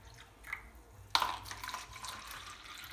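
Fruit ice pop mixture poured into cups, beginning with a sudden splash and settling into a steady, moderately close trickle of liquid with no talking.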